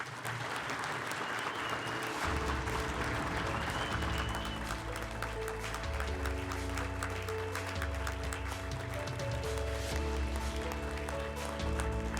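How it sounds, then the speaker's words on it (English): Sustained audience applause at the Oklahoma City Public Schools Wall of Fame awards ceremony, a continuous wash of clapping with music playing underneath throughout. "please join me in one more round of applause"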